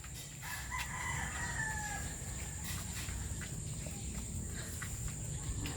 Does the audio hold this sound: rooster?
yes